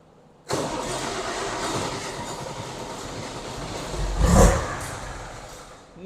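A Farmall 806 tractor engine catches abruptly after a brief silence and runs loud and close with a steady rough roar, surging briefly louder near the end as the throttle is worked.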